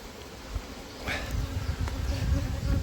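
Honey bees from a swarm drone around an open hive during beekeeping work, a steady close buzz rising in intensity with a couple of light knocks of frames.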